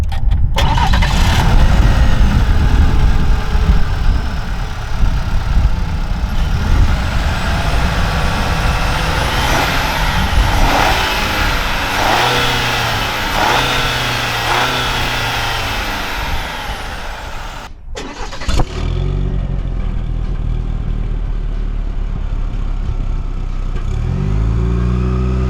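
Chevy 1500 pickup with the 2.7L turbo four-cylinder engine revving and accelerating hard, loud and close, rising through gears before a brief drop and a steady idle-like drone toward the end.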